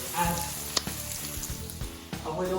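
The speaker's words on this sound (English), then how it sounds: "I'm just going to cook out those herbs a bit first." Herbs sizzling in a pan with sausage, a close crackling fry with a few sharp stirring knocks and scrapes over a continuous hiss.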